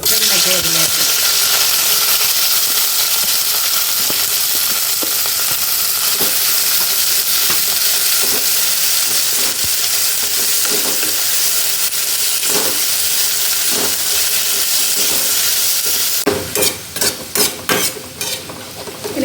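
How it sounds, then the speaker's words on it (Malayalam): A loud, steady sizzle of okra deep-frying in hot oil fills the whole stretch, with occasional stirring scrapes and sharper clatters near the end. "എണ്ണ നന്നായിട്ട് ചൂടാകുമ്പോൾ നമുക്ക് ഈ വെണ്ടയ്ക്ക ഇട്ട് വറുത്ത് കോരിയെടുക്കണം"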